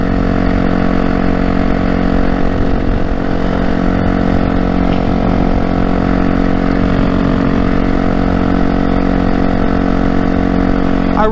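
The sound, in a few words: motorcycle engine running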